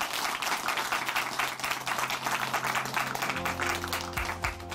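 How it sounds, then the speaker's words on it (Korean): A church congregation in Chuncheon claps after a testimony, a dense burst of applause that holds steady before music tones enter near the end. "다시 한번 박수 보내드릴게요."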